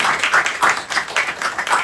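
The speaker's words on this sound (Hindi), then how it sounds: "बाजला के भी तालियां" A room full of coworkers clap together for a colleague at an office sales team appraisal gathering, the steady crowd clapping rising and falling in bursts for about two seconds.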